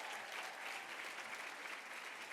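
An audience at an award gala applauds steadily, a dense sustained wash of clapping from a sizable crowd throughout.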